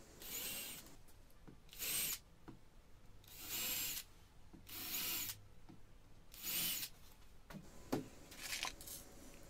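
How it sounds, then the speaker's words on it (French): A 2 mm drill bit bores a series of holes in the wooden structure of a router table, several separate bursts of high-pitched drilling whine, each lasting about a second, with quiet handling noises between them. "Je perce l'ensemble des trous avec un foret de 2 mm."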